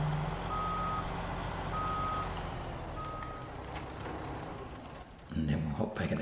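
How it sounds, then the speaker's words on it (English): Truck in the video game SnowRunner reversing, with evenly spaced electronic reversing beeps over a steady engine drone, followed by a louder clatter of mechanical noise near the end. "I'm just going to reverse him out of the way."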